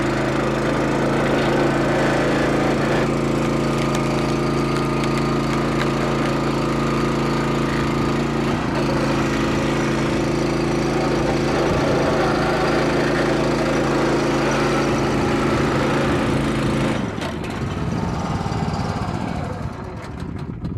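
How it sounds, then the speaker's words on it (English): The engine of a hydraulic log splitter runs with a loud, steady droning hum for most of the stretch, then its pitch and texture shift near the end. "So this machine here is a log splitter,"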